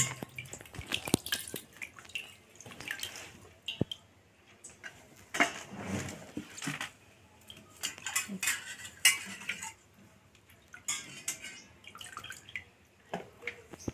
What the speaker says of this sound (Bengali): পটলগুলো সব ধুয়ে নেব এবার